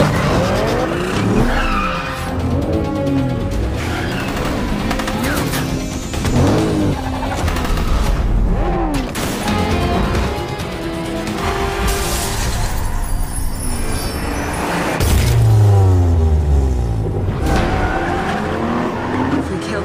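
Car engines roar and tires skid and squeal repeatedly during a getaway chase in the Hitman film, loud and busy, with a narrating voice talking over the action.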